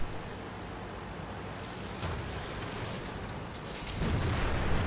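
A Type 5 Chi-Ri tank in World of Tanks fires its cannon, a heavy boom rising out of a steady rumbling engine and battlefield din, with a louder blast near the end.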